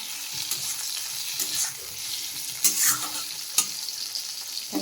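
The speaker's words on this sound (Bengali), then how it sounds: "এখন আলু পটল ভাজতে দিয়েছি" Potatoes and pointed gourd fry in a pan in a home kitchen, a steady close sizzle with a few sharper stirring scrapes and clatters.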